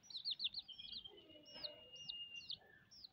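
Rainbow chickens kept for exhibition give faint, high, repeated peeping chirps in quick little bursts, fairly quiet and without talk.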